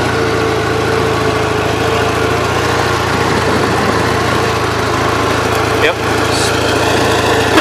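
A Gravely 8163-T garden tractor with an Onan engine labors under heavy load as its wheels spin, giving a steady, loud, low mechanical drone. A single short word is spoken partway through.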